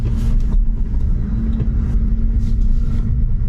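A Tesla electric car pulls away from a Supercharger, with a steady, loud low rumble of tires and road noise throughout and no talking.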